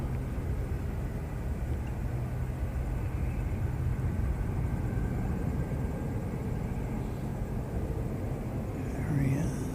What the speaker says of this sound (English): The rumble of Jetstar